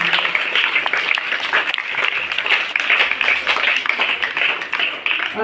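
Loud audience applause for two girls after a dance performance at a school Hindi Diwas celebration. Many hands clap briskly and keep up an unbroken rhythm, close and full, for several seconds.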